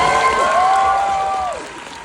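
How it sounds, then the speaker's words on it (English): Audience applause at a film screening Q&A, a dense burst of clapping that fades toward the end, with a tonal whistle-like sound over it. "So big round of applause."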